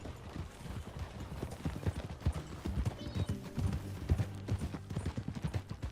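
Rhythmic clip-clop of horse hooves at a steady trot in the video game Red Dead Redemption 2, close and continuous, with a whinny and some background noise mixed in.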